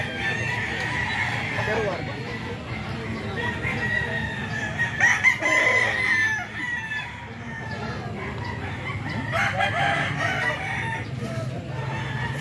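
Gamecock roosters, a bullstag and Sweater Kelso birds, crow repeatedly amid steady clucking and farmyard bustle, with a voice speaking faintly underneath.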